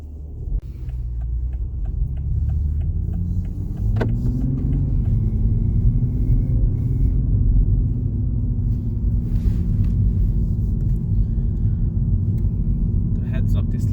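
A 2021 Toyota GR Supra 3.0 driving on the road, a steady low engine and tyre rumble heard from inside the cabin with a slight rise in pitch, continuous throughout, with someone talking over it.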